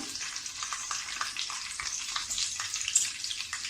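Green chillies dropped into hot oil with curry leaves and cumin for crisp thin poha chivda, giving a steady close crackling sizzle with small popping bursts throughout.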